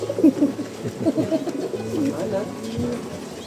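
Large pigeons coo in a flock close by, soft rounded calls repeating irregularly and overlapping, with a voice speaking faintly underneath.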